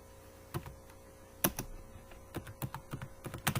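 Computer keyboard typing code, with scattered keystrokes that turn into a quicker run of close, crisp clicks toward the end, heard alone without speech.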